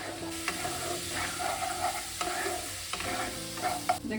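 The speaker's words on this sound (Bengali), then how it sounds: "এটা ভালোভাবে ভেজে নিতে হবে মশলাটা" Spice masala frying in a pan, with a steady sizzle broken by recurring scrapes and stirs, close and moderately loud, with no talking.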